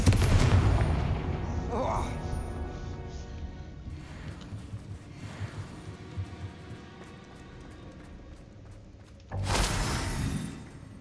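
Confringo blasting spell in the Hogwarts Legacy video game sets off a heavy boom at the start and another burst near the end, with game noise and faint action sounds filling the stretch between.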